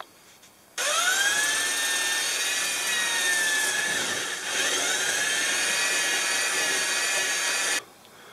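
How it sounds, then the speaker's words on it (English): A power drill bores through a rubber motorcycle fender made from a tire on a Brixton motorcycle, giving a steady high whine that dips once in the middle, then stops abruptly, loud and close, without talking. "Now I'm going to drill holes in the tire so I can screw it on"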